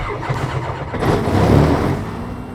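KFA Safari XL aircraft engine starting up in a flight simulator game: broadband noise swells about a second in and then holds as a steady, whining drone, with no talk.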